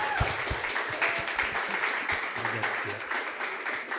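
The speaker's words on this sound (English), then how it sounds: "Let's give them a round of applause, please." An audience applauds a panel of guests with dense, continuous clapping that fills the room at a steady level throughout, with a few voices mixed faintly into the crowd noise.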